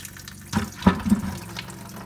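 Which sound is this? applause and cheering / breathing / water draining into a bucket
water draining into a bucket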